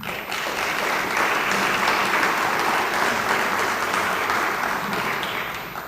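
Audience applause at a 2014 community appearance awards ceremony, a dense sustained burst of clapping lasting several seconds that tapers slightly at the end, with no voices over it.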